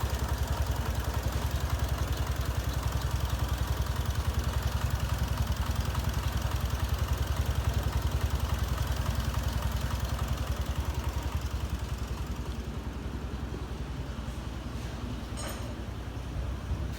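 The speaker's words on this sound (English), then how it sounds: "Quiet, we're doing an engine test" A 2004 Toyota Sienna minivan with a 3.3-liter V6 and 174,056 miles idles steadily and close by, a continuous low rumble holding an even level throughout with no talk over it.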